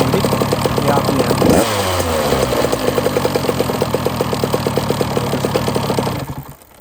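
A 2023 MC50 SX/TC 50 motorcycle engine revs sharply, then drops into a rapid, loud two-stroke idle that putters on before cutting off at the end.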